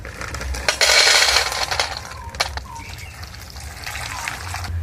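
Water is poured over a packet of dry soybean chunks to soak them in a home kitchen, a splashing burst early on that settles into light trickling and faint clinks of the pieces.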